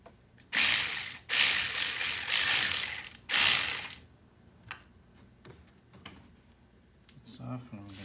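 A ratchet clicks rapidly in three loud bursts while loosening a battery bolt on a 2006 Volkswagen GTI MK5. Quieter clicks and a voice follow.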